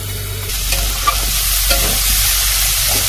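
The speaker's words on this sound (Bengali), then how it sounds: "এবার ভেজে নেবো, নিয়ে সামান্য একটু জল দেবো" Elephant foot yam with spices fries in a pan with a loud, steady sizzle while a spoon scrapes and stirs it in short repeated strokes, with no talking.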